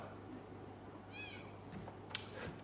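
A house cat gives a short, faint meow at close range, a single rising call over steady low room hum, with a couple of soft knocks afterward and no one talking.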